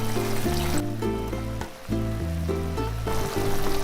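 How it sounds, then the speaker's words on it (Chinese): Chicken wings, Hakka style, sizzle softly in a pan as soy sauce is poured in with water, perilla, garlic and rock sugar, a faint hiss under steady, tuneful background music. "再淋入2勺生抽"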